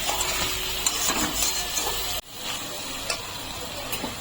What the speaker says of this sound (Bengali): এখন দিচ্ছি একটু লবণ আর কিছুটা কাসুরি মেথি। দিয়ে এটাকে ভালো করে কষিয়ে নেব।